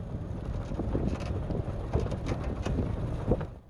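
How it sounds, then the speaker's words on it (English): Wind buffets and rumbles steadily outdoors, with gusty low-frequency roaring and occasional sharper blasts against the microphone throughout. "And it is windy out there."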